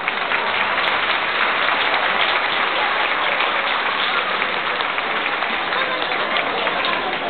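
An audience at a Greek event breaks into sustained applause, a dense, loud, even wash of clapping lasting several seconds with no clear pauses.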